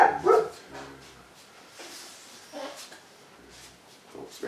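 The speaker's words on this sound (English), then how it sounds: "Dog's a bit excited over something." An excited dog barks a few times outdoors near a car, with sharp bursts up close at the start and then scattered, quieter yips and barks, a voice faintly present.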